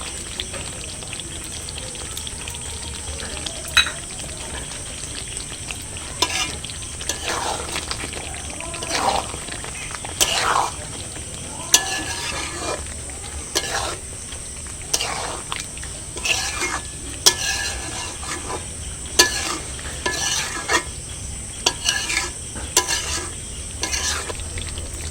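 Butter chicken being stirred in a pan after kasuri methi goes in, with a soft sizzle underneath and repeated scraping, clinking utensil strokes at an irregular rhythm, close by.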